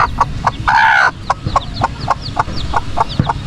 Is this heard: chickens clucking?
yes